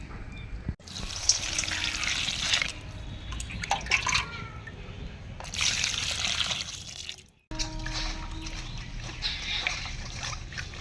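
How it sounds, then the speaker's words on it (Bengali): Chopped cauliflower being washed under running tap water in a home kitchen, a steady splashing stream with brief interruptions as the florets are moved about, fairly close. "ফুলকপি কাটা হয়ে গেল, এখন ভালো করে ধুয়ে নেব"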